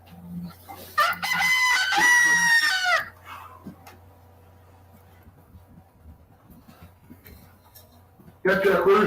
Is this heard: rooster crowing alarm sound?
yes